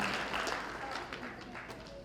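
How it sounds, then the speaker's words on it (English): Audience applause at an elementary school spring concert, greeting the school principal: a steady wash of many hands clapping throughout, moderately near, with some voices and talk mixed into the crowd. "How about a round of applause for our principal, Dr. Burnell?"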